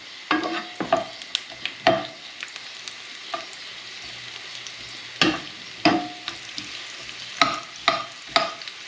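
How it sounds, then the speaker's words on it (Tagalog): Garlic, ginger and onion sautéing in a pan, a soft steady sizzle broken by loud, separate clanks and scrapes of a spatula stirring against the pan. "ang uunahin ko ay itong garlic at saka ginger. And then, lalagay na natin ang onion."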